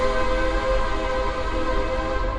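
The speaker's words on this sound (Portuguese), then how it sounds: "Buzina, parece um navio." A loud, sustained horn blares in central São Paulo, a deep, steady tone like a ship's horn that sounds continuously and close for the whole stretch, with no talk over it.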